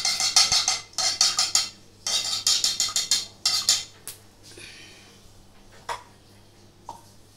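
A metal spoon clinks against a pan while ghee is mixed into oil for making yogurt balushahi, rapid bursts of close, bright tapping that thin out into a few scattered knocks, with no talk.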